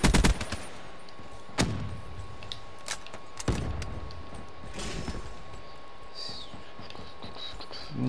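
Gunfire in the video game Man-O-War: a close cluster of sharp shots at the start, then scattered single cracks spaced seconds apart over a low, steady background.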